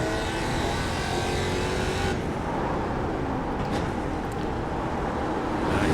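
Race car engine roaring in a racing video game on the Nurburgring GP circuit, a steady loud drone with another car's note swelling as it passes, no talking.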